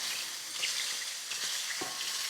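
Food browns in a thin layer of oil in an uncoated pan, giving a steady close hiss and crackle with occasional stirring scrapes and clinks, and no talking.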